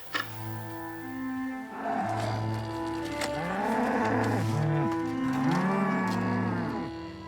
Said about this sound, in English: The Charolais cattle that graze on the castle's meadows